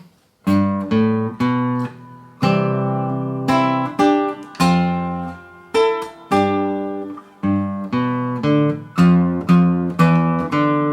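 Accordion plays the La Bamba intro, melody with bass and chord button accents, phrases starting and stopping in short bursts, played alone and close.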